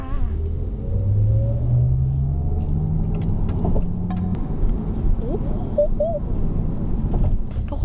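A Maserati GranTurismo Folgore electric car accelerates, its rising electric-motor whine climbing steadily under a constant road and tire rumble, with a few faint chirps later and no clear speech.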